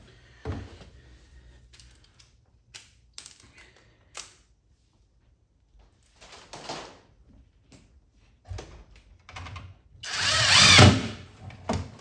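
A nut driver works on a Frogger arcade cabinet, giving several short, sharp mechanical bursts separated by quiet gaps, ending in a louder, longer whirring burst near the end.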